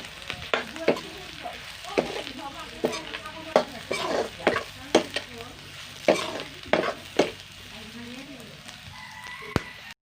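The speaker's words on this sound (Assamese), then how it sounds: "অলপ ভাজি দিম" Food sizzles in a pan of browned onions while a utensil scrapes through it in repeated, uneven stirring strokes, close and fairly loud.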